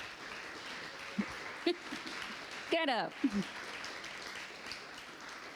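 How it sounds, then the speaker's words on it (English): A seated audience at a charity grant finalists presentation gives steady applause throughout, while someone speaks briefly over it and a few louder sounds stand out. "if you guys could give them a round of applause"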